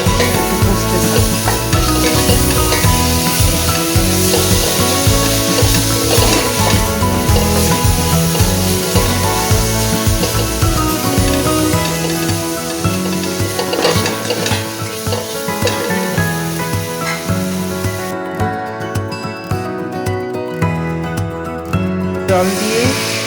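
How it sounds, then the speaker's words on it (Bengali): Potatoes with cumin and coriander powder stirred and fried in a pan, a steady loud sizzle with continuous scraping and clattering of the spoon throughout, no talking. "কমিয়ে এভাবে আমি নাড়তে থাকবো, কষতে থাকবো।"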